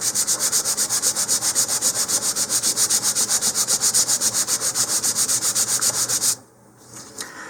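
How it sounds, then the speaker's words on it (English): Steady back-and-forth sanding of the first filler coat on model rocket fins, a loud rhythmic rubbing stroke repeating about eight times a second before stopping abruptly near the end. "for this first coat, most of it should get sanded off, because we're filling in the deepest parts here"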